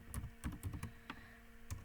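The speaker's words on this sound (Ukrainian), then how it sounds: "текст ми друкуємо за допомогою клавіатури" Keys tapped on a computer keyboard while text is entered, a handful of quiet, irregular clicks with short pauses, close and alone with no talking.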